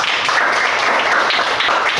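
Children in a classroom clap together after singing, a brief dense burst of many small hands patting at close range, steady and moderately loud throughout.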